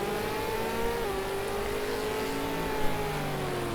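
Onboard a Ford V8 Supercar through a hairpin, a loud, steady engine drone shifts pitch midway as it slows and then pulls away, with a brief bump near the end.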